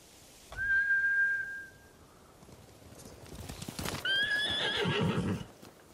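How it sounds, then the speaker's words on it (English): Samurai horses in the video game Ghost of Tsushima neigh loudly and whinny, with hoofbeats and a rising whinny as they run off, over a steady outdoor wind-like ambience. "Bastards scared off the horses."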